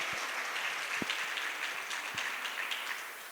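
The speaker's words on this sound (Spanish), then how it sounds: "Fuertes aplausos para nuestro panel." Audience clapping for a question-and-answer panel at a church event, a dense steady round of applause from a crowd that slowly tapers off toward the end.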